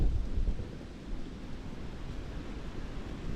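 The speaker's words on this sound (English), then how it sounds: "You can really hear it howling up on the hilltops." Strong wind roars steadily across open hilltops and woods in rural West Virginia, a broad continuous rushing that buffets close by with gusts rising and easing, alone without voices.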